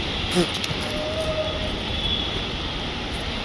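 A metro train arrives at a station, a steady loud rumble and rolling roar with a faint high squeal, continuous throughout.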